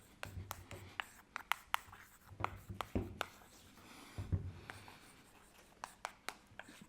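Chalk or marker writing on a board during a math lecture, a quiet series of sharp taps and short scratchy strokes in irregular rhythm, close and alone.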